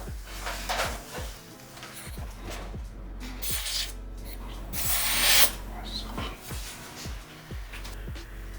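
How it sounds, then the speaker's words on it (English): A kitchen knife sharpened on a 400 grit diamond stone makes a test cut through a carrot, with a series of close, crisp chopping clicks repeating at a fairly steady pace and a brief rustle midway. "let's do a test cut with the 400 grit on the carrot"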